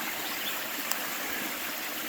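Creek water flowing along the Ozark Highlands Trail, a soft, steady rushing hiss at moderate distance, unbroken throughout with no voices.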